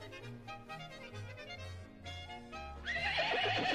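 A horse, a mare, whinnies with a long, wavering neigh, then a louder, brighter call near the end, close by and clear with no voices.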